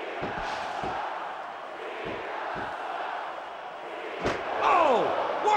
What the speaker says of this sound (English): Oh, what a shot from that steel chair.